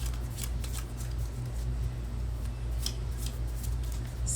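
Glossy Superior Smooth tarot cards being shuffled by hand, a close, steady riffling and sliding of card stock lasting a few seconds.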